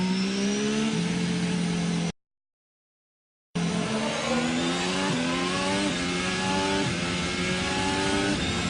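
A Formula 1 car at the 2017 Brazil Grand Prix practice session accelerates hard, its high-pitched engine climbing steadily and dropping briefly with each quick upshift, loud and continuous apart from a short silent gap.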